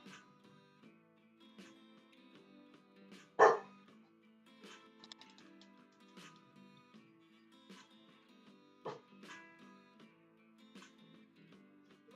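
A family dog barks faintly in the background of a quiet home where a child plays with Lego, with one clearer bark standing out among soft, distant yips and light clatter.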